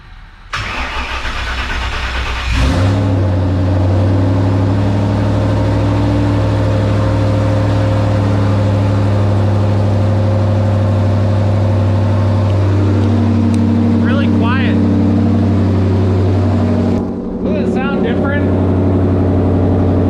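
Twin-turbo Mustang with a custom exhaust starts up and settles into a loud, steady, deep idle that runs close and continuously, with a brief dip near the end.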